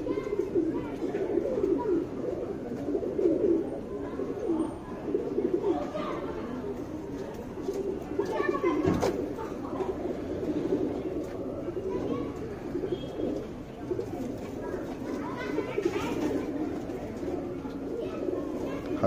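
Buri pigeons cooing together in a loft, a steady low murmuring of overlapping coos running throughout, close and fairly loud, with a voice talking over the birds.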